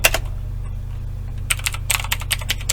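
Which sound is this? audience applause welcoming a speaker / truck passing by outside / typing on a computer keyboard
typing on a computer keyboard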